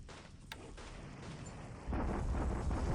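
Naval bombardment in the strategy game War in the Pacific: a low rumbling barrage of distant explosions and gunfire that swells louder partway through, with no talking.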